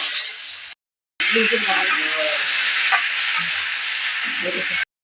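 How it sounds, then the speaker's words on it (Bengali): Small pieces of fish coated in fish fry masala and salt frying in a pan, a loud, steady close sizzle interrupted by a brief silent cut, with stirring and faint voices beneath. "মাছ ভাজছি।"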